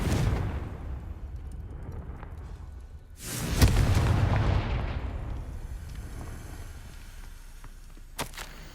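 The Confringo blasting spell in Hogwarts Legacy lands as a deep, booming explosion midway through, its rumble decaying slowly over a low ambient drone, with a sharp crack near the end.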